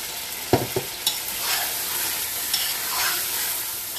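Masala roasting in a Mughlai badami chicken handi, a steady close sizzle with a few sharp spoon scrapes and knocks against the pot, no talking.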